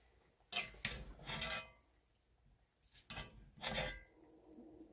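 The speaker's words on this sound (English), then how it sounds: "we're going to give this a little stir" Taco soup ingredients stirred in a pot, four loud scraping strokes in two pairs with short pauses between, close up and alone.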